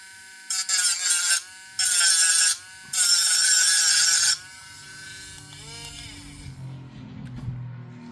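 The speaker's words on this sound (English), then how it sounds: "cheap Dremel to remove the raised detail" A cheap Dremel rotary tool grinds raised detail off a plastic Trumpeter 1/32 F-117A Nighthawk model kit in three loud, high-pitched buzzing bursts, then quieter handling noises follow.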